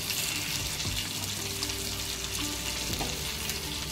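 Jitada fish fillets fry in a pan of oil, a loud, dense and continuous sizzle with a faint hum underneath, heard close with no voices.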